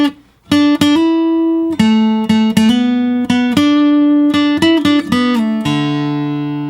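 A slow closing lead line on acoustic guitar from a song ends in a country-style finish. Single plucked notes ring out one after another with slides, then settle into a final sustained note, close and solo.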